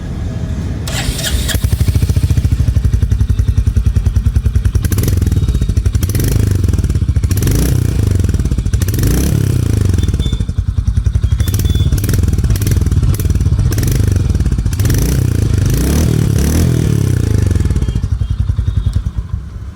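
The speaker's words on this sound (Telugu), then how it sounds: "ఒకసారి ఎగ్జాస్ట్ సౌండ్ వినండి" Royal Enfield Hunter 350 base model exhaust running loud and close, a steady low thumping burble with a few blips of revs, continuous for nearly the whole stretch with no talking.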